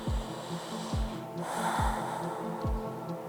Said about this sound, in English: Take 1 more breath.